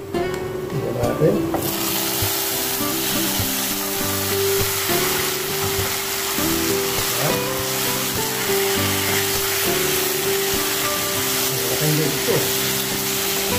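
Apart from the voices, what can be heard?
sautéing dried chicken necks in a pan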